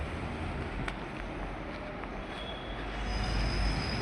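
A metro train runs through a metro station as a steady, loud rumble of wheels on rail, with a thin high squeal joining in partway through.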